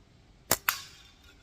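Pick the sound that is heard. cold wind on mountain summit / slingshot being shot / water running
slingshot being shot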